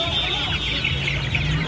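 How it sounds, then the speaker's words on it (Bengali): Sonali desi chicken chicks clucking at a busy pet and poultry market, a dense continuous chorus of small peeping clucks close by over steady crowd background noise. "সোনালী দেশি মুরগির বাচ্চা আছে। দেখুন"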